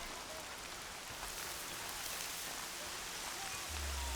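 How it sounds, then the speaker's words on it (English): Steady rain pours in the video game Horizon Zero Dawn, a dense, even hiss of falling water that stays constant and fairly loud throughout, with no voices over it. "Oh, it's really raining now."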